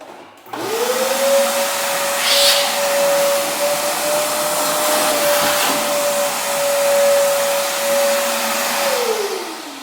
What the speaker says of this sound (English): the easiest way and the fastest way is to use a vacuum